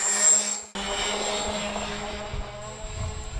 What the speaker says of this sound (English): The plane flew well.